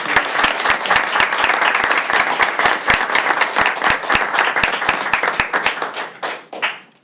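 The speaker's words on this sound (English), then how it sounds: "please join me in another round of applause" A crowd at a high school event claps in loud, steady applause that carries on throughout, then thins out and fades near the end.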